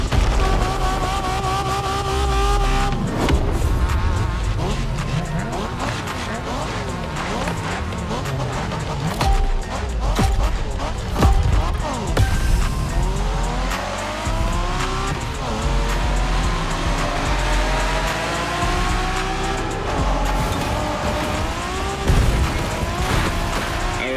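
A racing car in The Crew Motorfest video game snarls loudly through rising and falling engine revs as it shifts gears, with tires squealing and skidding through corners and occasional thuds.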